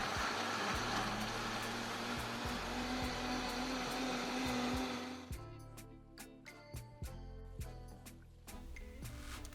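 A kitchen blender purées roasted vegetables with a steady, fairly quiet whir that runs for about five seconds, then cuts out and leaves scattered clicks and knocks.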